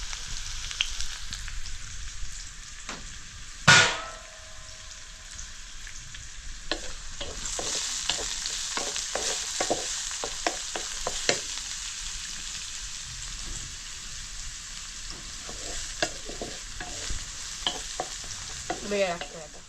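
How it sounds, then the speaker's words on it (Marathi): Onions being sautéed in oil in a home kitchen, with a steady soft sizzle and frequent scraping and stirring clicks. There is one sharper knock early on, and no voices. "आता कांदा चांगला परतून झाला."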